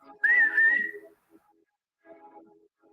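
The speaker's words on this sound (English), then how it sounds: "I just whistle." A person gives a short, sharp signal whistle, a single loud rising tone held for under a second, followed by quiet murmuring speech.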